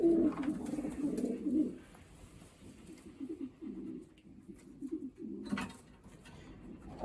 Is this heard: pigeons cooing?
yes